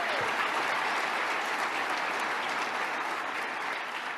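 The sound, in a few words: audience applause at State of the State address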